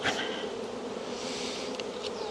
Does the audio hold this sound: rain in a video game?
no